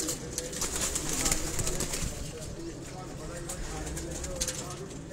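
Dubai teddy breeder pigeons on a rooftop loft in Sialkot coo in a low continuous murmur beneath nearby talking and general background noise.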